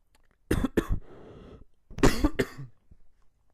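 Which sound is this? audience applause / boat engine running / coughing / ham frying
coughing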